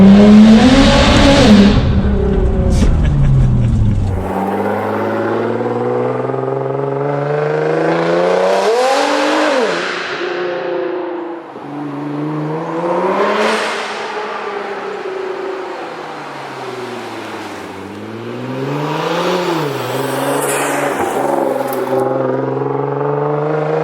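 A tuned Nissan GT-R with an anti-lag tune and all-wheel drive makes a rolling launch-control run, its engine loud and close and revving up through repeated rising and falling gear pulls with no talk.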